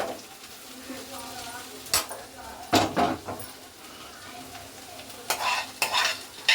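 Tempering stirred into a sizzling pan of carrot, potato and egg fry, with sharp spatula scrapes and clanks against the pan over a soft frying hiss, close up, while someone talks.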